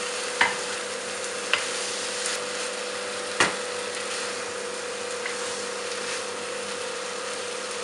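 Mutton curry frying with soaked coconut powder, sizzling steadily in the pan, with a few sharp scrapes and clinks of the stirring spoon cutting through.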